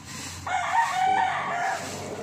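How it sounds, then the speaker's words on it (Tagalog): A rooster crows once close by, a drawn-out call lasting over a second, with quieter farmyard ambience before and after, no talking. "andyan pa rin po yung mga manok. Paikot-ikot lang sa paligid ko."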